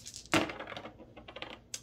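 Several dice clatter and tumble across a table during a miniatures board game battle: a sharp initial strike followed by a scatter of small rattling clicks that settles, then one last tap.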